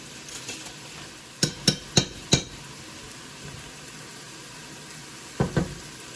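Vegetables frying in butter for a turkey pot pie, a steady soft sizzle broken by a quick run of four sharp scrapes and clicks of stirring, then two more a few seconds later, close by.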